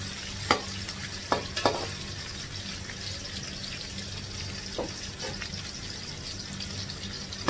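Onions sizzle with ginger in a pan while cooking Ilocano igado, a steady close frying hiss broken by a few sharp spatula scrapes and clinks.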